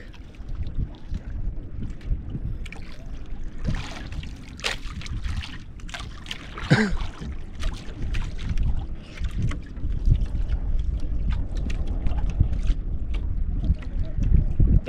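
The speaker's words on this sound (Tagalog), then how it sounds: "Grabe ingay ng isang bangka na yun ah" A passing boat's engine drones steadily over water with wind buffeting the microphone, and a few voices call out over the noise.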